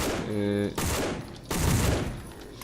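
Gunfire in the zombie shooter No More Room in Hell comes as loud, rough bursts of shots with a brief pause between them, and a voice is heard between and under the shots.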